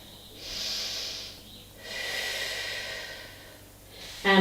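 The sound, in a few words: deep breath during Pilates stretch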